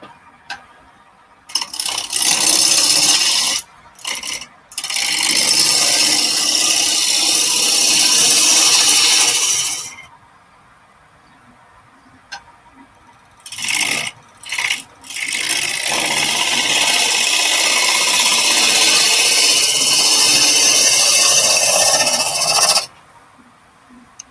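A turning tool cutting a wooden spindle on a lathe, dull and in need of sharpening, giving loud, rough scraping bursts of about eight and seven seconds separated by short pauses and near-silence.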